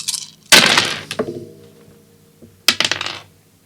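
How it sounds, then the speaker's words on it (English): A D20 die is rolled onto a hard surface in two bursts, each a sharp clatter of bouncing hits that trail off into smaller rattles, loud and close with no talking. "let's roll the dice"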